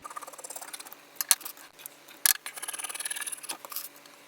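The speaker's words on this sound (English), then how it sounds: "I took a solid color piece of fleece. I'm just gonna cut out around it." Scissors cutting solid-color fleece fabric, a series of soft, close snipping and rustling sounds, with a rapid run of short cuts toward the end.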